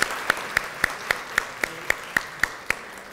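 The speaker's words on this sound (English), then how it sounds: "Please join me in giving a big round of applause to our panel today." An audience at a professional education session applauds its panel, with the clapping falling into a steady, fairly even rhythm of sharp, close claps over a soft crowd wash.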